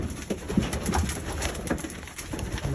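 Racing pigeons coo softly inside the loft, repeated low throaty calls from several birds close by, mixed with quiet rustling and shuffling and no talk.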